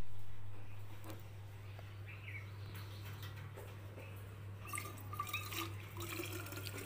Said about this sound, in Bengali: এখানে গরম জল করে রাখলাম, আর কিছুটা এখানে রয়ে গেল।